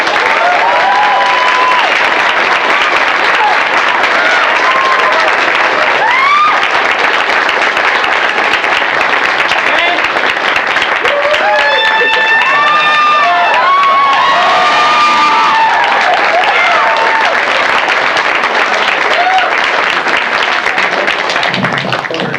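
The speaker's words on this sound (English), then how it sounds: "let's give it up and have a big round of applause for a very talented gentleman, Mr. Dan Gilvezan" Convention crowd at a Transformers fan event applauding and cheering for a panel guest, loud continuous clapping with whoops and shouted cheers rising over it, especially toward the middle, lasting many seconds.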